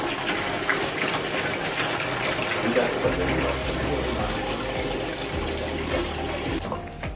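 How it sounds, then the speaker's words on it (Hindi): Water gushes steadily from an RO plant's storage tank into a 20-litre jar, a loud continuous rushing pour with a rising fill tone, as people talk nearby. "ये स्टोरेज जो करके रखा हुआ है पानी, यहाँ से इसको फिल करते हैं।"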